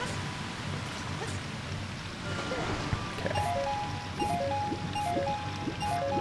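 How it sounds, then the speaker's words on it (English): Rushing waterfall in the video game The Legend of Zelda: Ocarina of Time, a steady broadband roar of falling water with chiming game music notes over it and a brief spoken word. "Don't worry, I can make it right into that waterfall."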